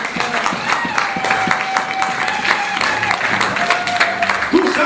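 Church congregation applauding during a worship service, a dense wash of clapping from many hands with a sustained tone and voices rising through the crowd.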